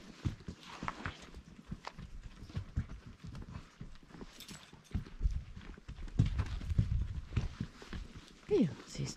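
Horses plodding over soft, rain-softened ground washed out after a thunderstorm in the Bardenas desert, giving uneven thuds and clip-clop steps close by, with riders speaking over them.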